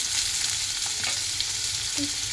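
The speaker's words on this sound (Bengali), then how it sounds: "চলো ভেজে নিই এই দু রকমের ডাল ভাজা করে দেব" Steady, loud sizzling of mung and another lentil frying in a hot pan, with a few faint stirring scrapes.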